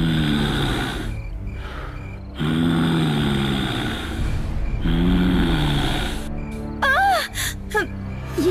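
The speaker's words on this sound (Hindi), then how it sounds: "लेकिन वही सांस लेने की आवाज आने लगी।" Heavy, drawn-out breaths in a Hindi horror cartoon, each slow inhale and exhale rasping close and loud in repeated cycles, followed by a few sharp, sudden gasps and whimpers.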